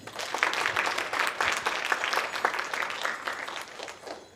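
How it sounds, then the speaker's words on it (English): An audience at a drum and dance demonstration applauds for a dancer, with scattered, uneven clapping rising and falling at moderate volume across the whole stretch. "A round of applause."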